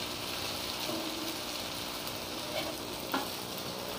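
A crispy maida dosa cooks on a hot pan, producing a gentle, even sizzle throughout with a faint scrape and one brief tap toward the end.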